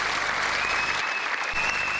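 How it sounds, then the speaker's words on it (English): Applause from an audience greets guitarist Tommy Emmanuel, a dense, even roar of clapping lasting a couple of seconds, with a thin steady tone running faintly through it. "Give a big applause to Tommy Emmanuel"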